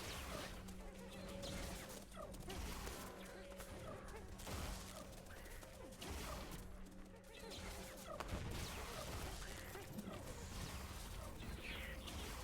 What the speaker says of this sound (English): Oh, are these fireworks?